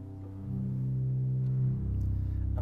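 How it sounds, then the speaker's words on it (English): A concert hall pipe organ sounds its 16-foot contrabass pedal stop, a deep, steady low drone that swells after a soft start and holds, resonant in a large room with no talking. "This contrabass, 16-foot."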